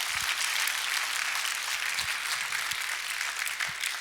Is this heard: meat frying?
no